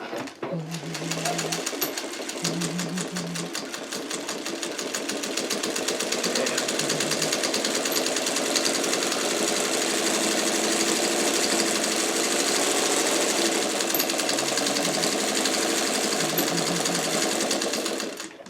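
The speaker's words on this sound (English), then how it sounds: "I'm just going to run a quick stitch along here, okay, at 1/4 inch." Sewing machine running a quarter-inch seam on a pillowcase, a fast continuous rattling hum close to the microphone that sustains for most of the stretch before stopping, with a voice faintly heard early on.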